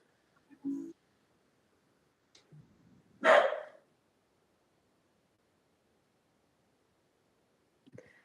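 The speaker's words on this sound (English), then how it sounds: "I have a corgi. I can't be held responsible for every time he barks." A corgi gives a single short, sharp bark at close range, standing out against near silence, with a few faint brief sounds before and after it.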